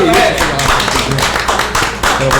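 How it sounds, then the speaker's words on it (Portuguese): A studio audience applauds a guest on a Rio de Janeiro radio podcast. Steady clapping runs throughout, mixed with speaking voices. "Que eu queria pedir uma salva de palmas para esse cara aqui."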